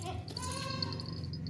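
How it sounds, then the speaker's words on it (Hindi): Plump, healthy Beetal goat bleating at a livestock sale ahead of Qurbani, one sustained, wavering bleat heard close and loud with little else around it. "मोटी ताज़ी सेहतमंद बकरी है"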